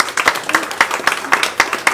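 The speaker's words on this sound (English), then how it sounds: "we would like a round of applause for all of our sponsors" An audience at an event claps for its sponsors in a loose round of applause. The sharp, close claps come in an irregular patter, with a faint murmur of voices underneath.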